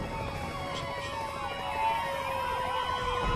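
Police sirens in the game Prison Break: The Conspiracy, several wailing tones overlapping and sweeping up and down, steady and fairly close.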